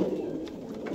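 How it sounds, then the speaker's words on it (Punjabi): A pigeon coos softly in a brief low burbling phrase at a bird house in Jhelum, close by and fairly quiet, with no voices. "ਬਹੁਤ ਹਾਈ ਕੁਆਲਿਟੀ ਦਾ ਕਬੂਤਰ ਹੈ"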